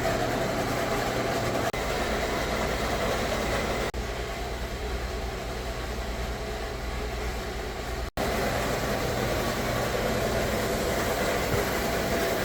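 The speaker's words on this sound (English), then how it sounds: "he's going to cut this steel for the new bumper on the yellow Bombardier" A lathe cuts steel stock with cutting fluid for a new bumper on a yellow Bombardier, producing a loud, continuous machine drone with a brief dropout near the end and no voices.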